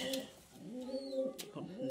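A pigeon coos softly and close by, giving a few low, rolling throaty calls against a quiet background.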